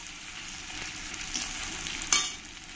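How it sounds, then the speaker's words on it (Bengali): Tomatoes and onion sautéing in a pan for a mutton kosha curry give a steady close sizzle and crackle, with a couple of brief louder stirring bursts and no talking. "দিয়ে পেঁয়াজের সঙ্গে কিছুক্ষণ আমি কষিয়ে নেব।"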